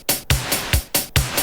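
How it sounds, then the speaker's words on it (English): A simple electronic drum loop: deep kick thumps alternating with sharp snare hits in a steady, tight rhythm, loud and dry with no voices. "I'm going to make a really basic drum pattern"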